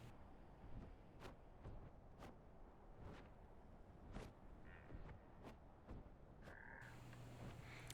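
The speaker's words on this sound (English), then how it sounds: "I hear a frog." A frog croaks in short, repeated calls amid the ambient background of The Isle video game, the calls faint and spread out over a low environmental hiss.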